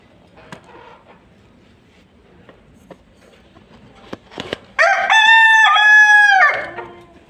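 Backyard chickens, Fayoumi and local desi hens with roosters, give scattered clucks and soft calls, then one rooster lets out a loud, close, drawn-out crow lasting about two seconds.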